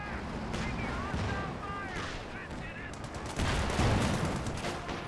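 Company of Heroes 2 battle with shelling and small-arms fire: crackling gunshots and dull explosive thuds rumble continuously, growing heavier toward the end, with a game voice heard over the din.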